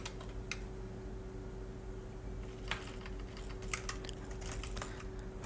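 Keys clatter faintly on a computer keyboard in scattered bursts of light taps over a steady background hum.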